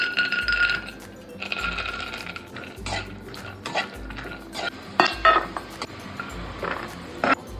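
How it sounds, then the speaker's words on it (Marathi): Peanuts are stirred as they roast in hot oil in a metal pan, giving repeated clattering scrapes and clinks of a utensil against the pan in uneven bursts, near and clear, with a low hum in the gaps. "शेंगदाणे भाजून घेऊ तेलामध्ये."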